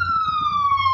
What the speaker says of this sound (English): There's an ambulance driving by.